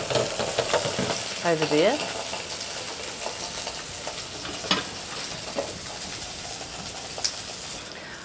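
Rib-eye steak on the bone sizzles in a frying pan, a steady close hiss with stirring and clatter, a brief pan scrape near the start and a few sharp clicks, while a voice speaks briefly.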